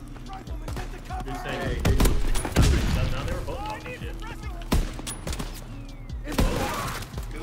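Sniper rifle shots crack in a multiplayer shooter video game where an Enfield rifle is in use, several sharp reports scattered across a few seconds, mixed with heavier booms and under close voice chat.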